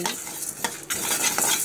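Coriander sizzling in hot oil in a pan: a continuous close crackling fry with a few quick stirring scrapes, no talk over it.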